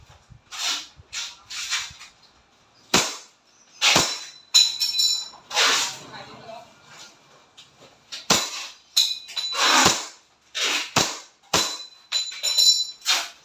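A WE 2011 Hi-Capa T-Rex semi-automatic airsoft pistol fires a string of sharp, close cracks at irregular intervals during an accuracy test, each shot crisp and loud with quiet gaps between.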